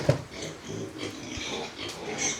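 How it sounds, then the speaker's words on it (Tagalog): Pigs grunt and snort close by at feeding time on a small farm, a shuffling mix of short oinks and breathy snuffles with no talking. "Pakainin na po natin yung baboy."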